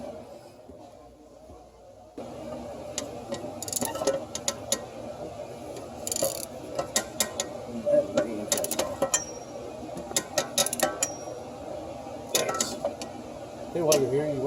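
Locking nut being tightened on a front shock absorber of a 1996 Dodge Dakota, scattered metallic clinks and ratcheting taps at close range, with someone talking throughout.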